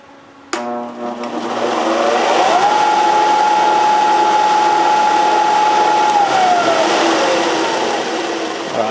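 A homemade water-cooled Briggs engine starts with a sharp crack and runs steadily, its pitch climbing to a sustained high whine for several seconds before dropping back down, loud and close with no talking.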